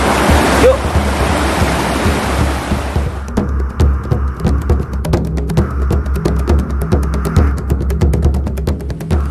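A river flowing along its bank, a steady loud rush of water that thins after a few seconds into a closer trickle and splash, with faint scattered clicks and movement near the microphone.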